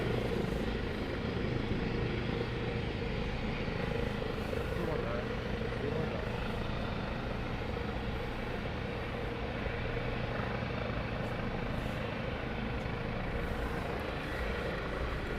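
Military training helicopters from the RAF, Army and Navy fly over an airfield, a continuous broad rotor and engine rumble holding steady from start to finish, with some talk mixed in.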